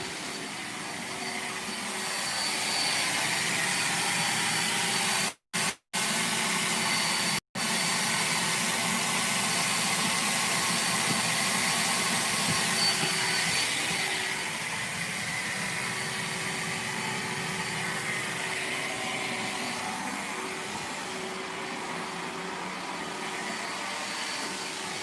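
Carpet seam steamer sucking hot air to dry a seam in a room during a carpet install: a loud, steady vacuum-like whoosh runs throughout, broken by three brief cutouts near the start and easing slightly in the second half.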